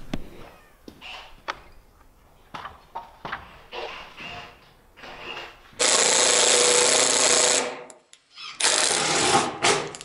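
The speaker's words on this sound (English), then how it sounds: "Over time, we've managed to overheat the drill." A drill bores into construction lumber with a Milwaukee high-speed auger bit in two loud, close, harsh bursts near the end. Before them come scattered light knocks and small noises.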